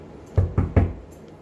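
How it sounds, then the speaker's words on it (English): Three quick, dull knocks on a door from a trained dog, close and fairly loud, spaced about a fifth of a second apart, followed by quiet. "Knock on the door."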